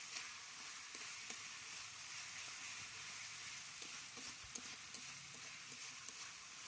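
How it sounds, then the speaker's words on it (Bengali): Dried chela fish curry with taro stolons and potatoes sizzles quietly in a pan as it is stirred, a faint steady crackle with soft occasional scrapes and no talk. "আবার ঢাকনা উঠিয়ে নেড়ে দিচ্ছি।"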